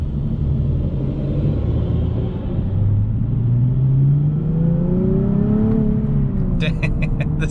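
A 2020 Nissan 370Z Nismo engine revs and blips as the driver rev-matches through the gears, a loud steady rumble with rising pitch sweeps from inside the car, and talk runs over it.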